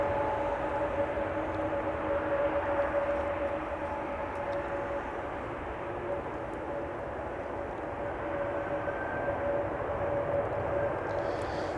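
A JetBlue airliner arriving at Amsterdam Schiphol Airport from New York gives a steady, broadband engine roar with a faint tonal whine, holding at an even level for the whole stretch with no talk.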